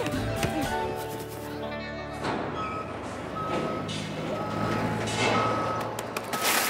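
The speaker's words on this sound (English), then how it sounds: "Look at that dump truck." A dump truck sounds its reversing beeps in a Cleveland Show cartoon: a string of evenly spaced electronic beeps over a busy construction-site din, with engine rumble and other noise around them.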